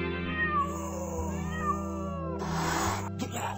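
Cat meowing in the video game Lab of the Dead: a couple of clear, close meows over a steady low game hum, followed by a short burst of scratching noise.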